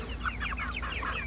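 Several chickens cluck and murmur in quick, overlapping bursts, fairly close, over a steady low background hum.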